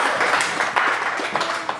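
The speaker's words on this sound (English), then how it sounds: "Give him a round of applause" A room full of people at a wealth-transfer summit gives a quick round of applause, with brisk, fairly loud clapping and a few sharper individual claps standing out.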